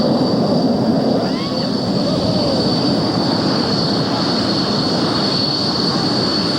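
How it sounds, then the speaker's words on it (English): A Panavia Royal Air Force Tornado jet taxiing by at the 1994 Quonset Point air show gives a loud, steady roar with a sustained high whine over it, heard outdoors at close range. "Squadron Leader Dave Ledward of 2 Squadron as they taxi by in the Panavia Royal Air Force Tornado."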